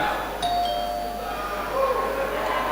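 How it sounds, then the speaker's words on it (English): A few bright school bell tones ring out at a live university quiz contest, clear and moderately close, briefly overlapping, with faint background noise. "The first school to ring their bell will be required to give an answer."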